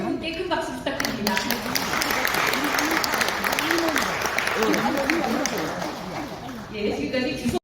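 Sustained applause from the audience at an international academic forum in a Seoul hotel ballroom, dense clapping filling the room for several seconds while a voice carries over it and tapers near the end.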